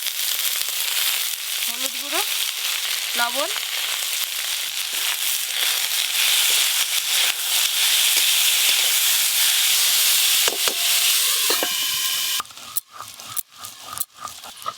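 Thin-cut potato strips frying in a pan with turmeric and salt for a fenugreek greens dish, giving a steady, close sizzle throughout, with a few short scrapes and clatters near the end as someone speaks briefly.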